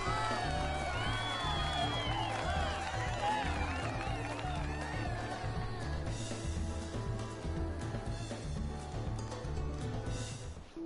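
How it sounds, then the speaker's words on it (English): A crowd applauds and cheers at a fashion contest event in the video game Final Fantasy XIV. Whoops and whistles rise over steady clapping and background music, holding loud for the whole stretch before easing slightly near the end. "let us conclude by giving one more round of applause to our first prize fashionistas"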